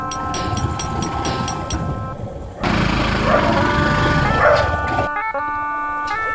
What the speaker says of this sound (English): Whose dog is that again, no?